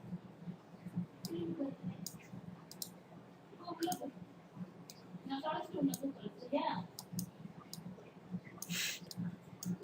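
Computer mouse clicks while working with the Photoshop pen tool, a scattering of quiet, sharp clicks spread irregularly over several seconds beneath soft, low murmuring.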